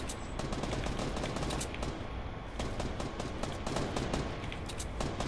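Rapid bursts of automatic gunfire in a Fortnite battle royale match, a dense fusillade of loud, closely spaced shots that runs almost continuously with brief gaps.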